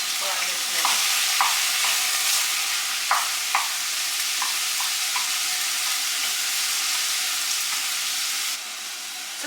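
Minced meat frying in a pan for a spaghetti Bolognese, a steady broadband sizzle with soft scraping clicks of a spoon stirring through it, close and continuous with no voices.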